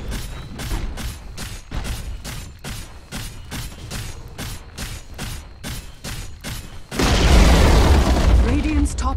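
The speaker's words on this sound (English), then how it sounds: "Radiant's top tower has fallen" Radiant top tower falling in Dota 2, heard as a long run of evenly spaced booming impacts followed by a louder sustained crashing burst of collapse and rubble at the end.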